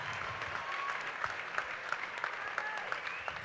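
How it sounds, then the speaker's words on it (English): Audience applause at a charity runway show fundraiser, a steady wash of many hands clapping throughout with a few sharper claps popping out, no talking over it. "Another round of applause for all these wonderful fundraisers and our co-chairs"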